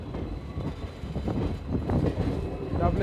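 A diesel-hauled Malda to Balurghat train rumbles along with rhythmic wheel clatter and car rattle, a continuous nearby din with a voice faintly mixed in.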